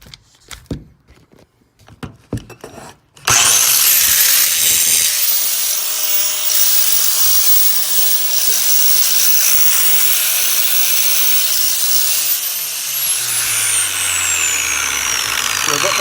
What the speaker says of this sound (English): Now we're going to flip the drill around, and we're going to do a flat surface on the other side as well.